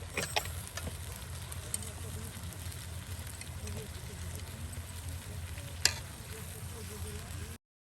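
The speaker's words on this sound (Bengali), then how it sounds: "এই দেখুন একদম চুবু চুবু করে তেলে ভেজে নেওয়া হচ্ছে।" Pangas fish coated in ground spices frying in oil at an outdoor riverside cooking spot, a continuous faint sizzle with a few brief clinks, under an open-air background hum.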